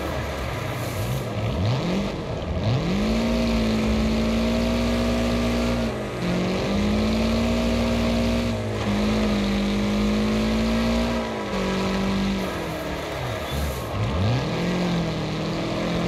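A car engine racing in Wreckfest during a folk race at Firwood Motocenter, loud and continuous, revving up and dropping back repeatedly as gears shift and the car slows for turns.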